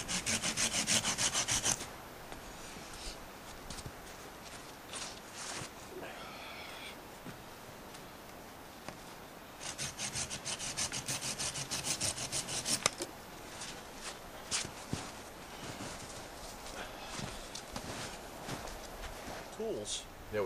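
A hand saw cuts through wood branches with steady back-and-forth rasping strokes, loud and close, pausing briefly between runs of sawing, with a crow cawing faintly in the background.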